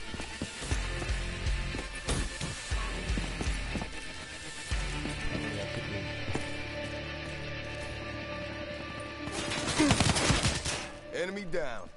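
Submachine-gun fire in the Black Ops 3 multiplayer beta, rapid bursts of automatic shots that come and go over a game soundtrack, with a louder dense burst near the end.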